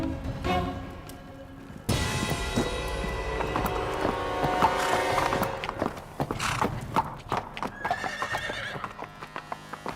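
A horse whinnies loudly and gallops with clip-clop hoofbeats, busy and close throughout, part of an action-adventure film scene.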